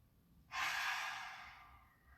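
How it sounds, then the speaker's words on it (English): A deep breath during a power yoga session, a strong airy rush that swells suddenly and then slowly fades like a long exhale, close and alone with no talk. "Big inhale, filling the lungs and the belly. Big exhale, soften the muscles and release."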